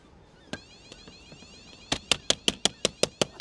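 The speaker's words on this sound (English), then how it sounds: "don't know what that alarm is." An alarm sounds on a lead flat roofing job, a run of sharp repeated beeps, sparse at first and then coming quickly in an even rhythm, fairly faint against quiet surroundings.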